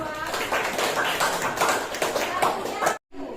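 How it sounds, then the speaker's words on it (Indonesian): A classroom audience claps for a second group of presenters, steady overlapping applause that runs for a few seconds before cutting off abruptly. "Berikan tepuk tangan dulu untuk yang kelompok kedua."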